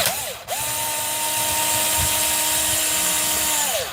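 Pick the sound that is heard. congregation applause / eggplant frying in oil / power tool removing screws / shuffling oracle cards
power tool removing screws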